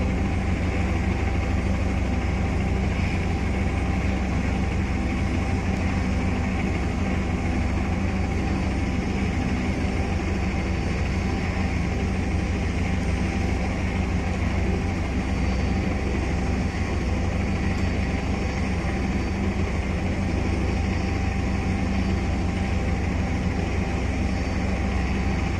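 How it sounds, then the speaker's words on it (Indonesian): A helicopter runs steadily and loudly while preparing to depart with the first team, a continuous low engine drone and whine that holds at an even level throughout with no voices. "ini helikopter untuk tim pertama"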